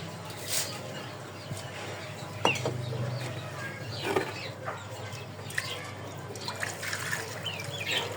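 Water trickles and splashes steadily as it is poured for birds in a village setting, close by, with faint bird and chicken calls in the background.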